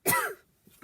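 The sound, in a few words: cough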